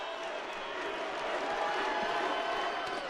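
A home crowd roars at a men's college volleyball semifinal match, a broad continuous wash of cheering and noise, distant and fairly faint, with no clear voice standing out.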